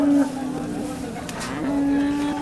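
A cow moos twice at a cattle market in Modnimb, the low drawn-out calls close by, separated by a short pause amid faint background murmur.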